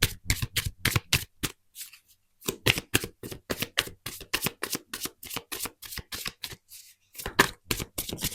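Tarot cards riffle and snap in quick rhythmic bursts, close and crisp, with a couple of short pauses before a few single cards are drawn and laid down; no talking.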